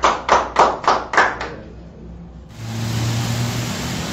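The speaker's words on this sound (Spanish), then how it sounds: "señores, aplausos." Five or six sharp hand claps ring out in an even rhythm in a television studio program, then stop abruptly, leaving a quiet pause before a steady low hum takes over.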